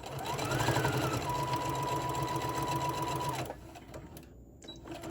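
A sewing machine stitches a fabric scrunchie in a brisk, close, even run of about three and a half seconds, then stops, leaving quieter handling noise.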